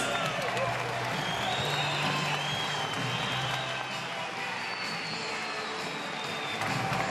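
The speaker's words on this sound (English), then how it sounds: "A round of applause, please, for these two heavyweight warriors." Crowd applause and cheering at a heavyweight professional boxing match, a dense, continuous wash of clapping filling the arena with faint tonal sounds mixed in.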